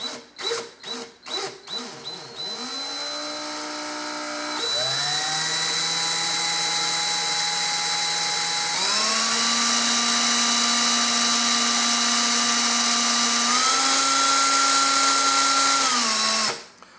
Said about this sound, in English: pop the drill back in the other way, and just continue forward